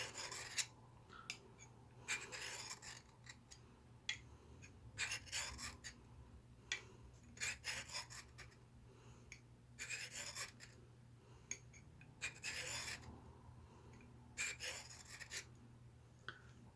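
A knife blade is drawn in repeated sharpening passes across a Smith's diamond stone, giving regular close raspy strokes in bursts, roughly fifteen of them, with a low steady hum underneath.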